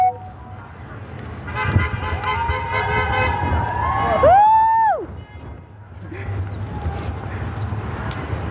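Car horns honking at a street protest march, a few short toots followed by a longer, rising and falling horn blast amid traffic rumble and crowd noise, fairly close.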